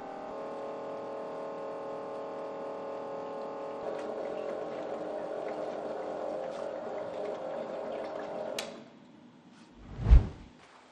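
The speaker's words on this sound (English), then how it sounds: "Switch on the pump and wait until the water has passed completely through the exhaust gas recirculation system." An electric pump flushing water through a car's exhaust gas recirculation cooler gives a steady droning hum with tonal whine for most of the stretch, then cuts off, followed by a single dull knock near the end.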